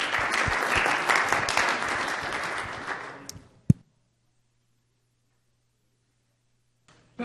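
Audience applause at a spring pitch competition, dense clapping for about three seconds that fades out, followed by near silence and a single sharp knock.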